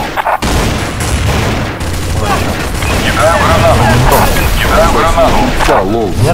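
Grenade blasts and bursts of automatic gunfire from a Counter-Strike: Source match crash loudly and continuously, with someone talking excitedly over the combat.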